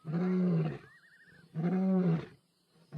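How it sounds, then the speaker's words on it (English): An old male lion in South Africa roars over a stolen impala kill: two deep, heavy bursts of roaring close by, separated by a short quieter gap. "His roar is a powerful weapon."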